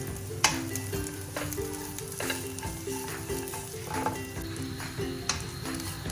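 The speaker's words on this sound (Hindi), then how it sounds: "ड्राई फ्रूट्स हमारे फ्राई हो गए हैं" Dry fruits fry in ghee for sheer khurma while a spoon stirs them steadily, giving a continuous sizzle over repeated metallic scrapes against the pan.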